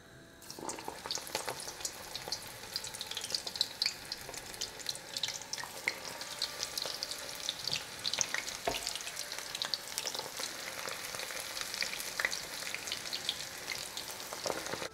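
Batter-dipped wild garlic pakoras sizzle and crackle continuously in hot oil on medium heat, a dense, even frying hiss with occasional pops, heard close and alone.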